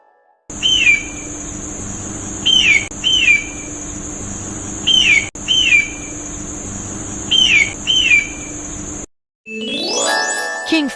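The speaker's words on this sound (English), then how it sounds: "Hawk." A hawk gives a series of short, high, descending screeches, some single and some paired, spread across the recording over a steady background hiss. Near the end a brief burst of a different sound follows a short gap.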